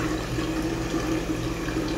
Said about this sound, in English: and then dump out that water